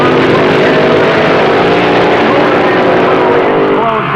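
Drag race cars at the 1966 NHRA World Finals in Tulsa, Oklahoma, blast off the line with an overwhelming, continuous engine roar, loud and close, while an announcer's voice runs underneath.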